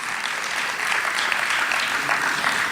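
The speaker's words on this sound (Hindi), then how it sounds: "समझ में आ गई हो तो आगे से पीछे तक तालियां बजा दीजिए।" A crowd at a Hindi poetry gathering, a kavi sammelan, claps together in steady, dense applause that swells slightly partway through and carries on without talk.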